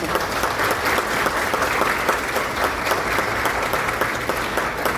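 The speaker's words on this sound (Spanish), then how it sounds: "la recibimos con un fuerte aplauso" A steady, full round of applause from an audience at a talk on teachers and climate change, dense clapping continuing evenly throughout with no speech over it.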